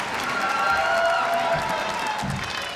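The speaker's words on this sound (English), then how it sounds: "Let's give a big round of applause to appreciate the honorees in the 8th class of NextGen Under 30 Oklahoma." An audience applauds honorees at the NextGen Under 30 Oklahoma awards ceremony, a broad steady wash of many hands clapping in a large hall, slowly easing toward the end.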